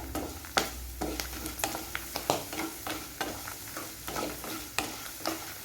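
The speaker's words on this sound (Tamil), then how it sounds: "பிரண்டை நல்லா வதங்கினோடனே நல்லா தெரியும் நமக்கு பிரண்டை வதங்கினது." Pirandai (veld grape) sautés in a pan under a gentle sizzle, with a spatula scraping and tapping in an irregular rhythm of close knocks.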